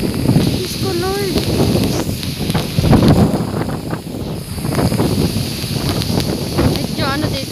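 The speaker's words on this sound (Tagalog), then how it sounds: "nadadala ko ng hangin" Strong typhoon wind at signal number four in Silang, Cavite buffets the microphone in loud, continuous gusts. Someone speaks over it.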